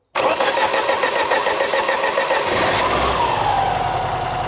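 A classic Swedish barn-find car, one owner and stored for 32 years, cranks over and its engine catches, then runs steadily and loudly up close, with a brief rise in revs as it fires up; no talk over it.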